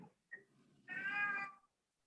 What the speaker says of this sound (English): you sound just like a cat